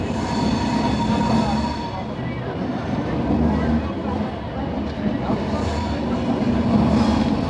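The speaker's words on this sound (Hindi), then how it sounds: "हमारी ट्रेन बगल में लगी हुई है और हम पहुंच गए वाराणसी जंक्शन" Kashi Janshatabdi Express passenger train pulling into Varanasi Junction, a steady loud rumble of wheels and carriages with faint squealing, heard from on board with voices in the background.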